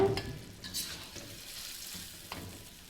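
Buro, fermented rice and fish, dropped into a hot pan and frying, with a loud sizzling burst at the start that settles into a steady crackle, punctuated by a few spoon scrapes and clinks.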